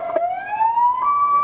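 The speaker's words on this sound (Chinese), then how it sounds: "警车不断鸣笛和时间赛跑" A police car siren on a busy Taipei city street on a weekend evening gives a short, loud, rising wail close by.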